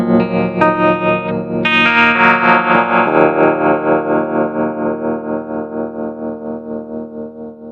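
Clean electric guitar tremolo from a Positive Grid Spark amp (Pearl Edition): a few strummed chords ring out with steady rhythmic volume pulsing that slowly fades, with no other sounds.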